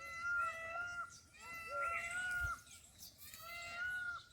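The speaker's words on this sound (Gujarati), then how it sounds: "મોરલા કેવા બોલે" Peacocks call in the hills near a village with faint, distant, drawn-out wailing cries. The calls come in several rising bursts over quiet background.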